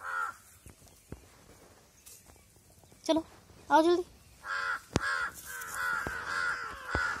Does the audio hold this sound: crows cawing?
yes